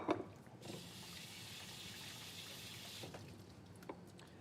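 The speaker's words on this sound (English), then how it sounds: "We're going to go ahead and just drain this quickly, give it a quick rinse just to cool the beans down a little bit." Cooked chickpeas drained and rinsed under running water, a soft continuous splash and trickle into a sink that stops abruptly partway through, fairly quiet and close.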